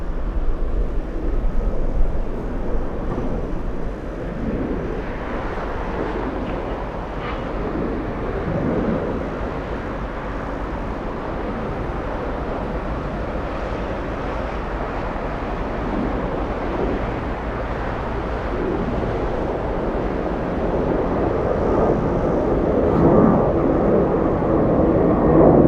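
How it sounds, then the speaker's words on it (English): A Delta airliner from Minneapolis lands at Atlanta's Hartsfield-Jackson airport in gusty wind shear. A broad, steady jet roar mixes with wind buffeting and swells slightly louder near the end. "Delta's 1046 flying in from Minneapolis."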